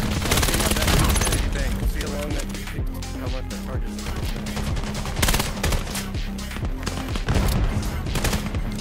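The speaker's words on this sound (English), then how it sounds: "Are they shooting each other?" Rapid bursts of automatic gunfire crackle through a VR shooter match in Vail VR, dense volleys and single shots stacked close together over a steady game soundscape, with voices talking underneath.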